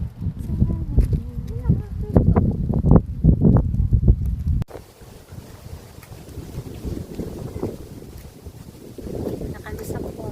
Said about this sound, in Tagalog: Ang lakas pala ng hangin dito.